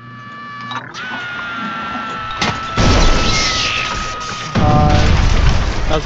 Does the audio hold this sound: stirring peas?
no